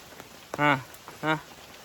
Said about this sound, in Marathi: मोठ्या पावसात भिजा